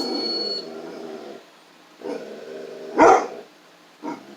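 A puppy barks at home, with a few short yips and barks in separate bursts after an opening stretch of whimpering, close and fairly loud with no talk.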